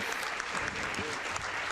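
An audience at a roadside revue show claps loudly after a song, a thick wash of applause with scattered cheers and a brief voice rising over the crowd noise.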